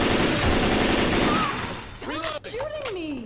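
Rapid gunfire in Left 4 Dead 2 during a fan-made mutation match, loud for the first two seconds and then giving way to other game sounds with sweeping tones, no talk.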